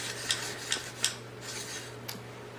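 AR-15 rifle part sliding into the gun during cleaning, a few light metallic clicks and a soft rubbing slide, close and quiet over a steady hum.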